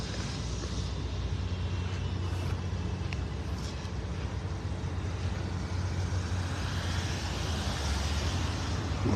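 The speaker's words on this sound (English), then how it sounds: "Where's all this traffic going?" Road traffic on Gulf Shore Drive in North Naples, Florida, a steady low rumble of passing cars and heavier vehicles, faint and continuous at a distance, with no one talking.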